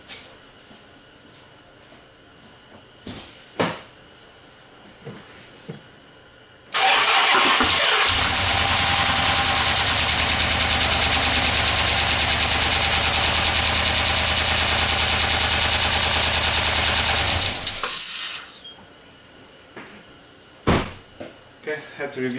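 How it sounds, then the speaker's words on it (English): A Chrysler 300 with a P0300/P0302 cylinder misfire cranks over and starts, then runs loud and close for about ten seconds before shutting off, with quieter shop sounds and talk before and after. "if you can start the engine briefly and see how the engine is going to behave"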